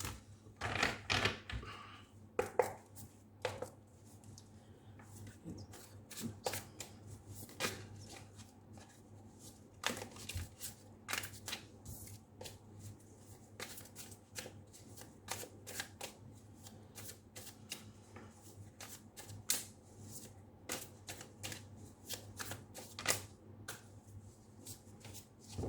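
Tarot cards are shuffled by hand in a quiet room, a long run of irregular crisp riffling and tapping bursts with short pauses between them.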